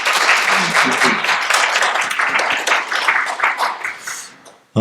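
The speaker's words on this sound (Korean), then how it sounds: "우리 한번 그 좋으신 주님께 한번 큰 박수 올려드렸으면 좋겠습니다." A Korean Baptist church congregation claps during a Sunday worship service, a loud burst of applause that thins and fades out toward the end.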